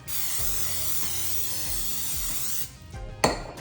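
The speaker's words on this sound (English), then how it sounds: "I want to spray my pan so that they don't stick to the pan." A steady hissing spray of cooking spray onto a pan runs for a couple of seconds close up, then stops, followed by a light clink of metal.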